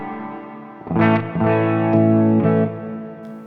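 Electric guitar through a Zoom 505 effects processor set to a huge reverb and delay: two or three loud strummed chords bloom and sustain into a long, washy, shimmering tail.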